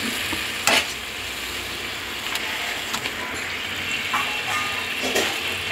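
Fried eggplant and hilsa fish get stirred gently into a bubbling curry, a continuous sizzle with occasional spoon scrapes and knocks against the pan.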